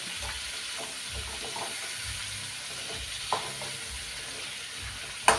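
Small fish frying in a pan make a constant dense sizzle with a soft hiss, steady and close, with a couple of brief sharper clinks or pops near the end.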